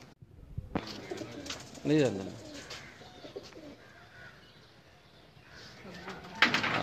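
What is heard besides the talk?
pigeons cooing on a rooftop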